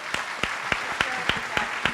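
A brief round of applause from a summit audience for the pitchers at a pitch competition, with sharp periodic claps rising above a steady crowd wash for about two seconds.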